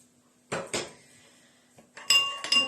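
A spoon mixes pressed garlic and oil in a bowl, giving two quick clinks, a pause with a faint tap, then a cluster of bright ringing scrapes and clinks against the bowl.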